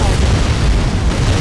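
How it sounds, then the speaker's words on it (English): Ion cannon strike exploding in the real-time strategy game Command and Conquer: Tiberian Dawn, a loud, sustained, bass-heavy roaring blast that fills the moment with continuous rumble. "Ion cannon charging"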